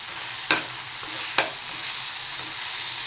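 Garlic and onion paste fries in a pan with a steady broad sizzle, broken by two sharp spatula clacks near the start, with no voices.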